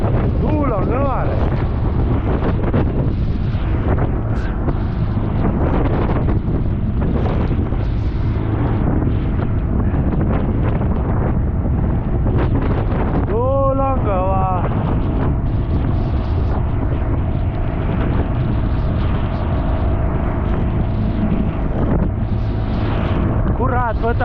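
Strong wind buffets a boat on a stormy fishing day, with steady rumbling gusts and water noise throughout while people talk over it.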